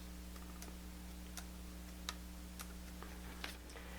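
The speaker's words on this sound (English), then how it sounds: "If we press down on the keys." Keys pressed on the thin, shallow-travel keyboard of a Lenovo IdeaPad Flex 14 laptop, a few sparse, soft clicks spread irregularly over steady background hum.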